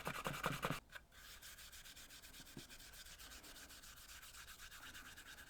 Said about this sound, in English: A bit more dye on that. Again, I'll just rub it over.